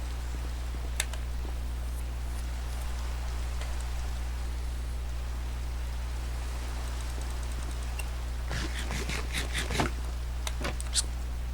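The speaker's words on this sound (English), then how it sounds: "I was kind of hoping that the rain would let up. That way I don't have to talk over the rain." Rain falls in the Minecraft video game as a steady, even hiss that runs through the whole stretch, with a low constant hum beneath and a few scattered light ticks and clicks toward the end.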